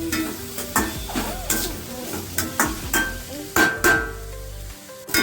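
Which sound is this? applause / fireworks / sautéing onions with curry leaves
sautéing onions with curry leaves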